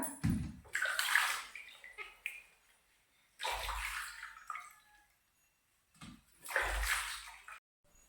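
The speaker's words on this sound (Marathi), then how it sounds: "तर सगळ्यात पहिलं स्वच्छ धुवून घ्यायचा" Raw sour mangoes being washed in water for a traditional oil-free salted mango pickle, heard as three separate bursts of splashing and sloshing, each lasting about a second or two, with quiet gaps between them.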